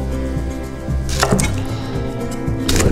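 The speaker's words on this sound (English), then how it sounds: "Go ahead and chop that in half." A knife cuts a shallot in half on a cutting board in a kitchen, giving a firm thud against the board amid steady kitchen background noise.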